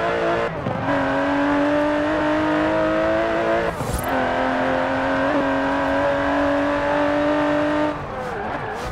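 An Aston Martin DB11 in Forza Horizon 4 holds a loud, steady engine drone with brief gear-change dips and a rev surge near the end, close and strong throughout.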